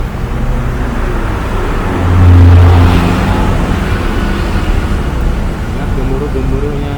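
Tugboat engine towing a barge past, a loud continuous low rumble that swells briefly as it passes and then holds steady.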